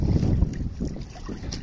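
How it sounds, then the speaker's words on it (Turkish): Strong gusty wind buffets the microphone with low, gusty rumbling while water rushes past a sailboat under sail; no voices are heard. "Dönüş yaparken yelken hareketini görüyorsun, rüzgar şiddetli."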